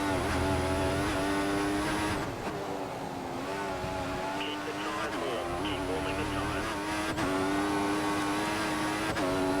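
Formula 1 car engine in the F1 2014 racing game at the Belgian Grand Prix, a steady high-pitched whine with pitch rising and dropping through gear changes, loud and continuous under a voice talking.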